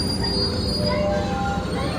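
A commuter train pulling into Surabaya Gubeng station, its wheels squealing in high, sustained metallic tones over a steady rumble of rolling carriages, close and loud, with no talk.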